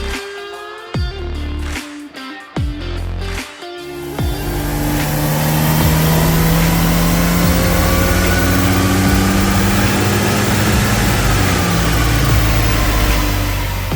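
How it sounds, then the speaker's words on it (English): A Liberty GT with a Stage 2 power upgrade on a dyno, first a few short blips of throttle, then a loud sustained roar as the engine is held up and climbs through the revs for around ten seconds. "Marty's going to run it up and custom dyno tune it to suit those components"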